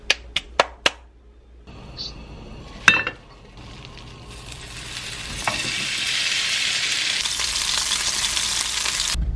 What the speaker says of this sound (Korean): 설거지를 하고 밥을 먹어야 돼서 설거지를 해볼게요.